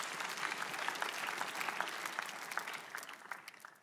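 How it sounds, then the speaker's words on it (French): A church congregation claps together during a sermon, a dense, steady roll of applause that stays fairly even and distant before thinning slightly at the end. "Applaudissez pour lui."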